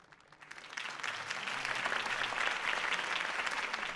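Applause in a Batman video game builds from a few claps into steady crowd clapping that carries on at an even level, moderately distant.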